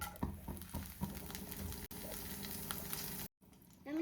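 Curry leaves sizzling in hot coconut oil in a pan, a steady close crackling fry with brief stirring clatter and a short dropout near the end.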